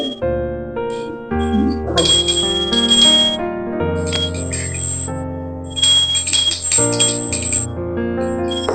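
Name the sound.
hand bell ringing during Hindu puja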